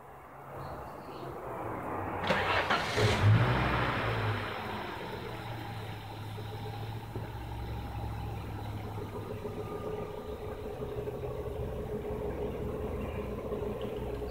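A Volvo car engine catches and then settles into a quiet, steady idle, a brief louder burst at the start fading to a low, even hum that continues throughout.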